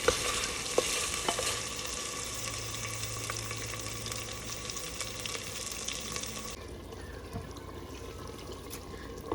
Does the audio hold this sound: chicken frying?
yes